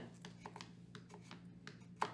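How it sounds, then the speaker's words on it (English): A knife chops through a bar of chocolate on a board in a home kitchen, making a series of crisp, irregular cutting knocks over roughly two seconds, the final stroke louder than the rest. "I personally think chopping your own chocolate is just better."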